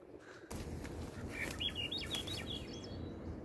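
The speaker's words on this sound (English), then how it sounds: "The Swainson's thrush, they have such a cool call." A Swainson's thrush's rising, spiraling whistled phrases ring out on a farm over a steady outdoor background hiss, clear but at moderate distance.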